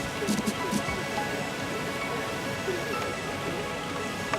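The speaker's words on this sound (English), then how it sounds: "the rain is starting to come down even more. It is absolutely pouring" Heavy rain pours down steadily over a sailing regatta course, a dense, even wash of noise filling the scene from start to finish with a few faint thumps early on.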